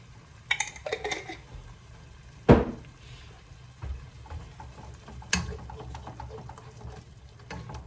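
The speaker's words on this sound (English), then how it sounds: "I'm just gonna stir that in and let them little sauces simmer in together" Tomato sauce with tikka masala simmer sauce being stirred in a pot, heard as a few scattered utensil scrapes and knocks against the pot, with one sharp clack near the middle, over quiet kitchen background.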